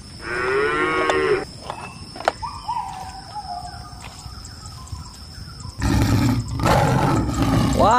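Cattle moo loudly and close by in a few long, drawn-out calls, with short gaps and other noise between them and no speech.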